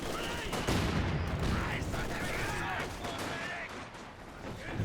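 Sniper rifle and other gunfire crackle through a Company of Heroes 2 battle, dense overlapping shots and blasts under a commentator's voice.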